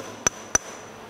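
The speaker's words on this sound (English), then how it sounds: "now I'm just taking a soft blow hammer," A soft blow hammer strikes the locking pins of a LeBlond lathe quick change gear box twice in quick succession, sharp close taps with a short metallic ring in a quiet shop.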